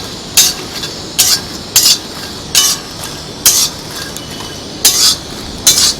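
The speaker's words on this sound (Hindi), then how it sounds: "मखाने भून के बिल्कुल तैयार है।" Fox nuts (makhana) roast dry in a pan while being stirred, giving sharp metallic clinks and scrapes in a steady rhythm of about seven or eight distinct strokes, close and clear with no voices.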